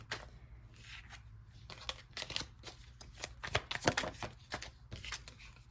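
Tarot cards being shuffled by hand, a string of riffling, flapping bursts of varying loudness, close and clear, with no voices over them.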